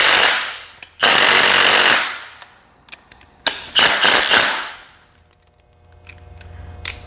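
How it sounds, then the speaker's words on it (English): An impact wrench runs in several loud, close bursts of rapid hammering while adjusting the valve lash on a 1965 Chevrolet Impala's 327 V8. Short ratcheting clicks fall between the bursts, and a low engine-bay hum follows at the end. "I'm just going to get these close with the impact, and then I'll go to a hand wrench"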